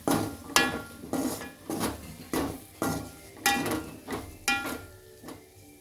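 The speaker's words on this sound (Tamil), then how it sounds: "இதை நல்லா பச்சை வாசனை போகிற வரைக்கும் நல்லா வதக்கலாம்" A utensil scrapes and clanks rhythmically against a pan while chili and coriander powder are sautéed for a tamarind-based kulambu, about a dozen evenly spaced metallic strokes, close and moderately loud, with no talk.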